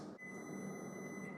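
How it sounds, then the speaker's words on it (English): A steady, high electronic beep tone from a microwave oven holds for over a second, fairly quiet against a low background hum, with no talking. "You may hear the microwave going off."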